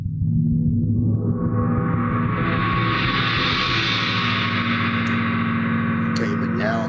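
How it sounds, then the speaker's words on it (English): A synthetic gong-like tone from a physical model rings out loud and dense from the start, its shimmering upper partials swelling and spreading over several seconds while a low hum sustains beneath, with no talking. "So here's a gong-like sound."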